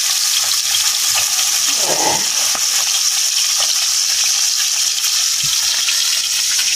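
Fish frying in a pan of hot oil, a loud, dense, steady sizzle heard close up, with a couple of brief soft clunks and no talk.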